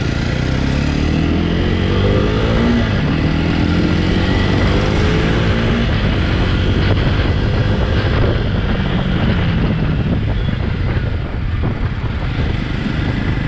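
A 2021 Jawa 42 2.1 motorcycle with a six-speed manual gearbox being ridden: a loud, continuous engine drone that rises and falls through gear changes, thick with wind rush, and no talking over it.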